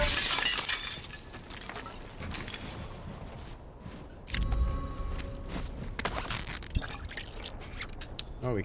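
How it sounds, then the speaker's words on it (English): Glass shattering in the video game The Last of Us Part II, a sharp crash followed by tinkling shards and scattered debris, with a second impact partway through and lingering small clinks. "More glass to break."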